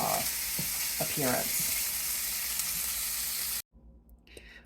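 Omelet fillings sizzle in a pan while being pushed around, a dense, steady crackle with a couple of scraping strokes, cutting abruptly to near silence with a faint clatter after.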